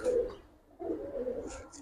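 A Giribaz racing high-flyer pigeon coos softly at close range, two low throaty phrases separated by a brief pause.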